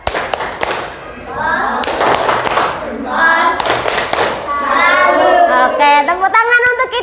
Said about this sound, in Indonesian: Sekarang kita beri tepuk salut untuk kelompok jenang